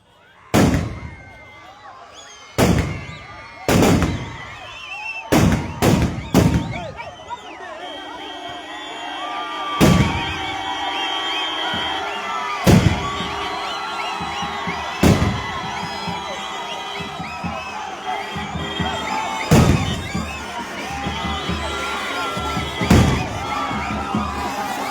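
Firecrackers burst at an election campaign rally in a long irregular string of loud, sharp cracks, several quick ones early and then spaced bangs, over a constant din of crowd noise, cheering and shouting.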